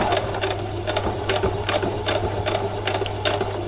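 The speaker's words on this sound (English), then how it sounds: "we're going to machine the whole thing all the way along." A sewing machine stitching fabric for a two-skirt dress runs steadily and close, with a continuous mechanical hum and a fast, regular needle rattle throughout.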